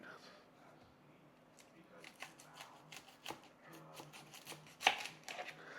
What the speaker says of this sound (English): I'm gonna chop up half an onion